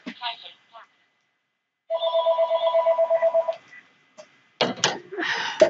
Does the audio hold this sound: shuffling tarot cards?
no